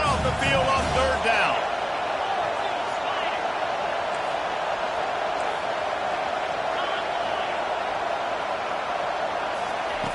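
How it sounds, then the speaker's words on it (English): A home crowd at a South Carolina versus Oregon college football game roars in a steady, continuous wash of noise on third down, with a brief thump near the start. "Here comes this home crowd as the defense tries to get off the field on third down."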